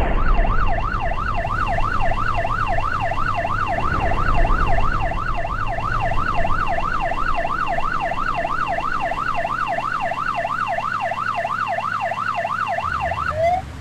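A fire engine siren in the video game GTA wails in a fast, regular warble, loud and continuous, over an engine rumble that fades away partway through.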